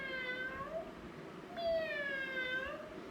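Two drawn-out meows, close and clear against faint background hiss, the second longer and rising then falling; in a children's bird story they may be a storyteller imitating a cat.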